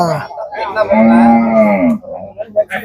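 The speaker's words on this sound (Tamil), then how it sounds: "நாட்டு மாட்டு கன்றுகள்லாம் விற்பனை ஆகிட்டு இருக்கு" A Kangayam native cattle calf at the Anthiyur temple chariot festival cattle market gives one long, loud, close moo, with faint crowd noise around it.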